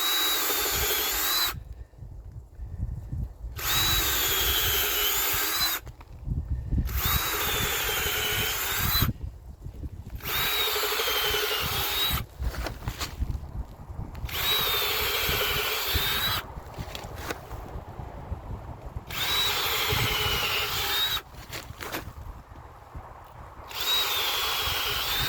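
Power drill boring holes into logs for shiitake mushroom spawn, a loud whining drone in repeated bursts of a few seconds each, with short silent pauses between holes.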